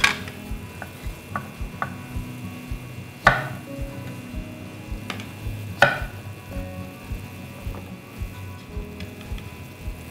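A knife cuts vegetables into cubes on a cutting board, a run of sharp ticking chops with two louder thuds, close and steady over a faint background hum, with no voices.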